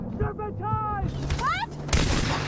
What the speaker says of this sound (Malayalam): നല്ല ഉന്നമുള്ളതുകൊണ്ട് ഒരൊറ്റ വെടി പോലും ഓമാക്കിയിട്ട് കൊണ്ടില്ല.